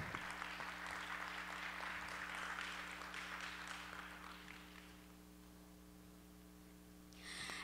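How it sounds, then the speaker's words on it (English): Audience applause greeting a music judge introduced at a singing event, a steady wash of many hands clapping over a low mains hum that fades out after about five seconds. "let's give her a big round of applause"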